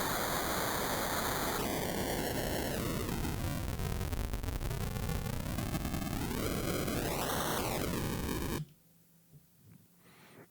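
Aliased pink noise from an Empress ZOIA Euroburo synth module, a loud roaring hiss with stepped whistling tones that sweep down and back up, then cuts abruptly to near silence.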